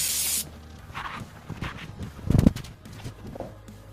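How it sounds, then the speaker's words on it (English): Brake cleaner sprayed heavily onto a flywheel in an engine clutch job: a loud aerosol hiss at the start, then short spurts and scattered metallic taps and handling noises close by. "Don't be afraid to go heavy on the brake cleaner."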